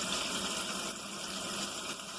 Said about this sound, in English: that's what they should look like when you put them in, that rolling boil of oil